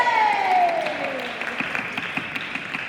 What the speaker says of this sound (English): you have to say, ole, like you mean it, with a round of applause